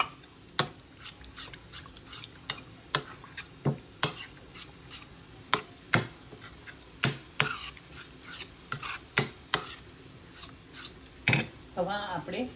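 Batter for palak patra with melted jaggery mixed in by hand, heard as a string of sharp clicks and knocks of a utensil against the bowl, in a steady irregular rhythm under soft background noise with brief voice sounds.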